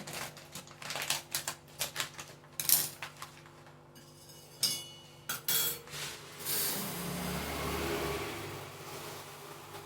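Sugar is poured into a storage tin in a home kitchen, with a run of sharp metallic clinks and rattles followed by a steady grainy rush as the sugar spills in.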